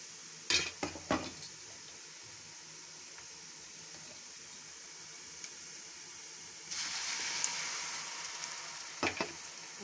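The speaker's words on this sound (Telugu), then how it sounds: "ఉల్లిపాయ మసాలా వేసిన తర్వాత ఉల్లిపాయ ముక్కలతో కలిపి బాగా వేపేస్తున్నాను" Onions with masala paste fry in a pan, giving a soft steady sizzle. Sharp clinks of a spoon stirring against the pan come at the start and end, and the hiss grows brighter partway through.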